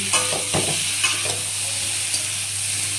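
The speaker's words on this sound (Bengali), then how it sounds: "একটু কষিয়ে নিয়ে জল দেব" Papaya curry frying in a pan, sweetened vegetarian style, giving a loud, bright continuous sizzle with a few scraping stirs near the start, close and uninterrupted by speech.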